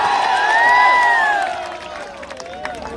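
An audience at a Bhojpuri stage show claps and cheers for a performer, with loud crowd noise and tonal whoops or shouts rising over the clapping at the start, then easing into a quieter, scattered wash.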